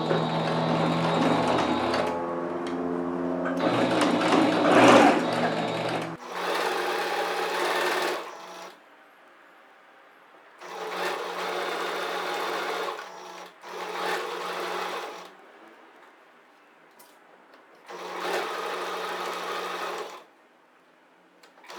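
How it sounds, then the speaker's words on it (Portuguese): A sewing machine stitching a patchwork border onto a Christmas dish towel runs in repeated bursts of rapid mechanical whirring, each lasting a few seconds and separated by near-silent gaps, close and clear. "Vamos centralizar aqui e vamos passar uma costura unindo os dois."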